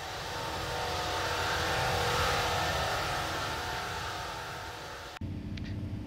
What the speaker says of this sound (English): These engines actually sound pretty cool.